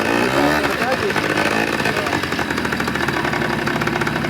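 A scooter engine runs steadily after a new battery has been fitted, giving a loud, continuous buzzing drone that fills the whole stretch, with people talking over it.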